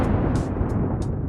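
A designed fire-explosion spell effect for a D&D rage mage: a dense, roaring blast layered with gas ignition, a tremolo torch whoosh and a stuttering fire whoosh, with short bright crackling bursts on top.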